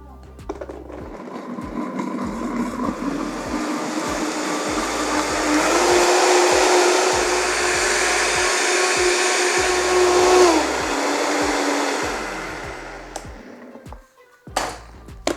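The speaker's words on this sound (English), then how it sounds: "you're going to blend until it's completely broken down, where there's no grit of those seeds and no chunkiness in those dates" A blender whirring steadily as it grinds dates and seeds into a spiced drink, a loud motor whine that rises in pitch as the mix breaks down, runs for about twelve seconds and then stops, followed by a few clinks.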